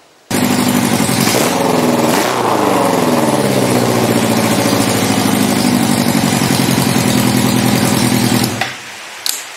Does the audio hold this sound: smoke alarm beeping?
no